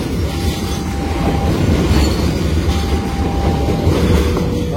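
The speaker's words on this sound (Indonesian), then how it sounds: "Kereta api Sri Tanjung." The Sri Tanjung passenger train (Lempuyangan–Ketapang) rolls past close by at Bangil station, a loud continuous rumble of wheels on track with faint metallic squeals.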